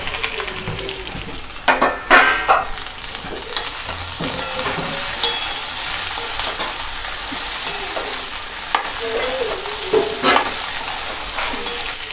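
Okra stir-fried in hot oil for masala bhendi, a continuous crackling sizzle broken by several louder scraping stirs of the spatula against the pan.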